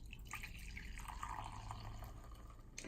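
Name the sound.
coffee being poured into a mug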